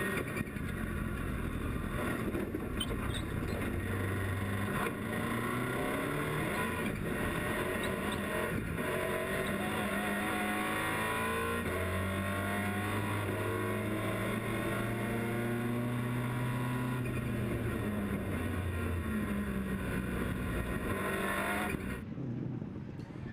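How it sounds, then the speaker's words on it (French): Rallycross supercars, among them a Mitsubishi Lancer Evo 10, racing at Knockhill, engines revving and shifting continuously at mid distance, rising and falling pitch over a steady crowd-free roar. "À la limite, Steve Hill sur l'Evo 10 Mitsubishi Lancer."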